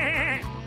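A sheep bleats loudly and close, a wavering, quavering cry that trails off into a lower tone.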